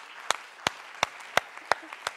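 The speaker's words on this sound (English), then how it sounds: "Round of applause." At a European business and nature summit session, a few sharp, evenly spaced hand claps ring out, about six in quick regular rhythm, fairly close and crisp over a quiet room.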